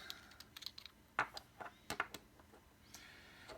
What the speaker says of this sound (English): I can flip it over and just make sure all the buttons are still clicky.